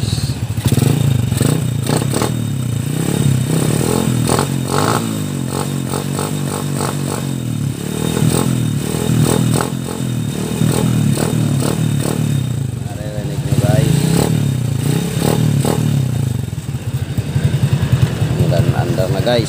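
A Honda Wave 100 motorcycle engine runs with a rough, rattling putter, revving up and down in bursts while someone talks over it.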